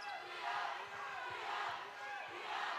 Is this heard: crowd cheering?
yes